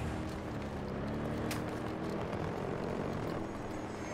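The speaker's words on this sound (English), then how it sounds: "There's a helicopter." A helicopter flies during Battlefield 2042 gameplay, a dense, continuous rotor and engine roar that stays loud and steady the whole time, with a brief sharp burst partway through and no talk.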